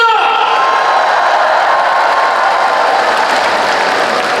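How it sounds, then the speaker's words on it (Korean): Sustained audience applause with cheering and whoops from a large crowd at a political party rally in the Yeongnam region, honoring the candidates after their speeches; dense, loud and steady throughout. "고생하신 후보자들께 격려의 박수 부탁드립니다"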